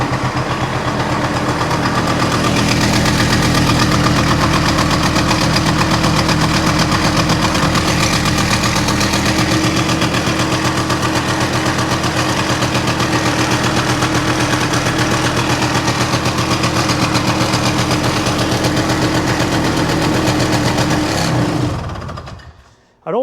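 A small engine on a Yamaha Inviter, once seized and now restarted, runs steadily close up for about twenty seconds with a constant rough idle and mechanical clatter, then cuts off abruptly.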